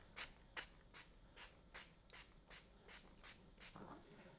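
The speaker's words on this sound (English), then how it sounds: "I'm going to lightly spray this." Around ten short bursts of water misted from a pump spray bottle onto a watercolor painting, evenly spaced, quiet and close, with no voices.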